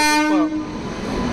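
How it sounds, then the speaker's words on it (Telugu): Mysore–Talaguppa Express, train 16277, pulling into a station, its loud horn sounding in a strong tone before it fades into the rumble and clatter of the arriving train. "సో గైస్ ట్రైన్ అయితే వచ్చింది చూడండి"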